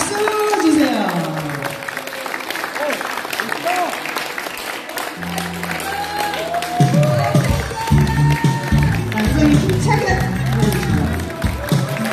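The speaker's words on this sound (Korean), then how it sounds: "박수 주세요" Applause from the crowd at the opening ceremony of the 33rd Junggok Badminton Club founding anniversary tournament, clapping in a hall that fills the clip, mixed with tonal sounds from the venue's sound system.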